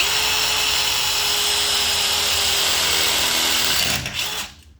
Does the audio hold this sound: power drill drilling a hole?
yes